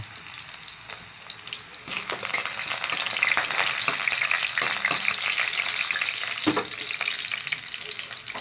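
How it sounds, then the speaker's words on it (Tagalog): Garlic sizzles loudly in hot oil, sautéed for Filipino chicken tinola; a steady, close frying hiss jumps in intensity as the garlic goes in, with occasional stirring clinks and no talk. "gigisa natin sa bawang"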